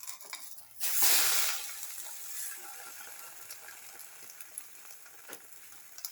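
A black pepper and mustard leaf omelette fries in a pan with a soft, steady sizzle, a loud hissing surge near the start, then quieter crackling with a few light taps, close by.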